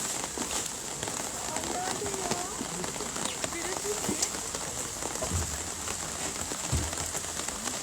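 Rain falling outdoors at a protest site in Soseong-ri, a steady, dense patter of drops on surfaces that fills the whole stretch at an even level, with faint voices and movement in the background.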